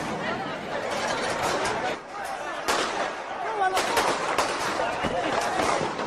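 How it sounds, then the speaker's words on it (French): Gunfire rings out over a crowd at a street rally, sharp cracking shots scattered through the clip amid crowd chatter and shouting voices. "Des coups de feu retentissent."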